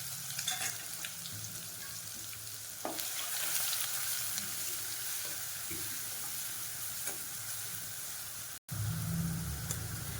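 Crushed garlic, cumin and green chilies with curry leaves fry in hot oil, a dense continuous sizzle heard up close, with occasional scrapes of stirring and one brief dropout near the end.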